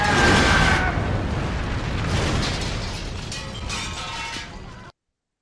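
A loud movie explosion from the horror film Jack Frost opens with a sharp burst, then a long rumbling roar that slowly fades with crackling debris until it cuts off abruptly.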